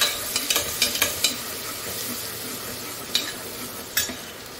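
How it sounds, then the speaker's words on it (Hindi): Finely chopped ginger and garlic frying in a pan for mutton keema, giving a steady soft sizzle with sharp clacks from a ladle stirring, close and alone. "थोड़ा सा पहले इसको भूनेंगे, इसका कच्चापन निकालेंगे लहसुन का।"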